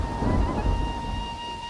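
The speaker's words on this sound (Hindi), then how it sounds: "जल्दी चलते हैं, बारिश तेज हो रही है।" Heavy rain falls in a steady, loud roar as thunder rumbles low and deep beneath it. A faint sustained tone hangs in the background.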